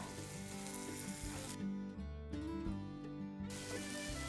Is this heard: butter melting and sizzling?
yes